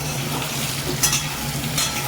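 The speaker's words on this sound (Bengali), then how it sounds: "আলু আর কাঁচকলাটা সুন্দরভাবে ভাজা হোক।" Potatoes and green banana frying in hot oil in a pan, a steady close sizzle with faint stirring scrapes throughout, no voices.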